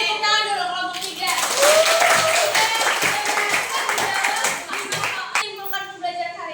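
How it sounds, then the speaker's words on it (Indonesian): Students in a maths classroom clap for the winning group, a short burst of lively hand clapping between stretches of a speaking voice. "Beri tepuk tangan dulu kelompok 3"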